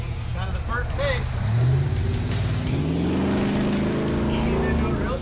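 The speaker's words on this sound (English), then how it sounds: "Ease into it real gentle. Throttle out." A supercharged 454 Chevy K5 Blazer with a lift rolls gently through mud, its big V8 droning and swelling as the throttle eases on, loud and continuous with a voice speaking over it.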